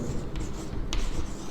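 A pen scratches across paper writing coordinates by hand, a soft continuous scribble with a couple of brief strokes, close up beneath a low background rumble, no speech.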